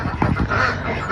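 Laying ducks on a duck farm of about a hundred birds quack loudly and continuously in a dense, overlapping chorus close by.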